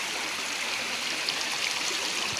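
A mountain stream flowing in natural surroundings, a steady, close rushing and splashing of water with no voices.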